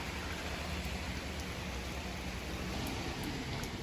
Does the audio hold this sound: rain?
yes